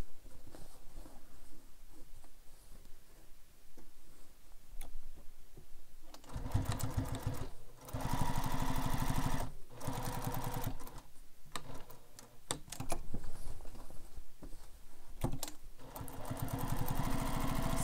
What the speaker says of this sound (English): Stitching all the way around, down the sides, across the bottom.